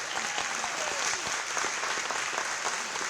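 A luncheon crowd claps steadily and densely, sustained applause filling the room, with some faint voices mixed in.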